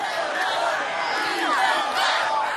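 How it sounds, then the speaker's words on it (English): Crowd cheering and shouting at an American Ninja Warrior warp wall, a loud, sustained roar of many voices that swells near the end. "The crowd cheering, beat the wall."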